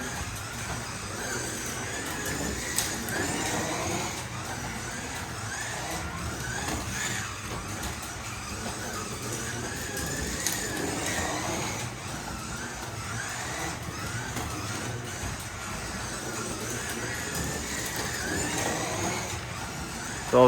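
A Carrera Digital 124 slot car laps a track, its small electric motor whining steadily with rising and falling pitch as it circles, periodic clicks marking passes, no talk.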